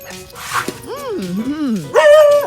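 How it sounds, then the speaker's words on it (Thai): A dog barks and whines close by in a series of rising and falling yelps, with people talking over and around it. "เธอเห่าเรา"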